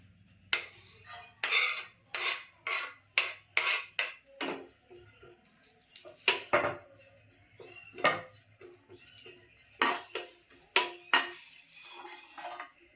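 Whole coriander seeds, cloves, black peppercorns and a cinnamon piece dry roasting in a pan, giving a series of close, sharp clinking scrapes as the spices are stirred and tossed in irregular bursts, with no talking.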